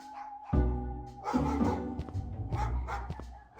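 Dogs at an animal shelter in the video game Scott Whiskers, a few close barks and yips in quick succession over a soft musical background.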